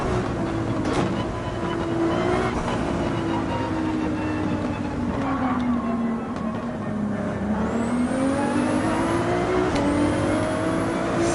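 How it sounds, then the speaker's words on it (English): Race car engine in Gran Turismo 7 held at full throttle, a steady loud drone whose pitch dips and climbs with gear and speed changes, continuous for several seconds. "There we go, full throttle through there."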